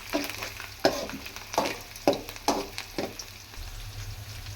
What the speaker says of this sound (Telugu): చూడండి, బాగా వేగుతున్నాయి